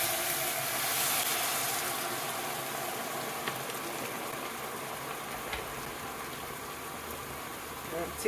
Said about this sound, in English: Tip in some boiling water.